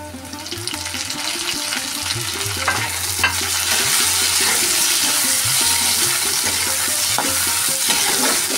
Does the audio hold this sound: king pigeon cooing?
no